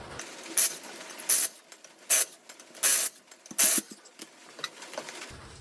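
A ratchet wrench loosening 19 mm bolts on the strut of a 2007 Volvo XC70, with five loud sharp clicking bursts in an uneven rhythm, smaller ticks between them and quiet gaps, up close.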